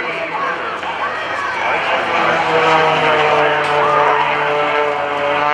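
A 400-horsepower aerobatic propeller airplane flies low at a naval air station airshow, its engine a loud, steady droning roar with shifting pitch as it passes, an announcer's voice heard over it.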